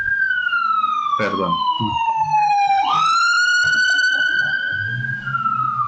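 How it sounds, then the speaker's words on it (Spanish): An ambulance siren sweeps past close by, a loud wailing tone that slides down and then jumps back up as it goes by, with a brief spoken word and some background sounds underneath. "Bueno, la ambulancia por ahí pasó."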